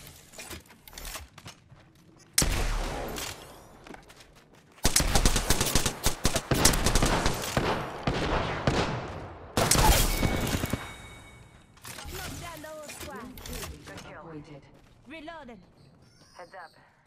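Gunfire in Apex Legends during a squad fight, several loud bursts of automatic fire separated by quieter gaps, with game voice lines and distant shots between them.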